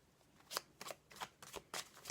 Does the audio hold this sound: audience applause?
no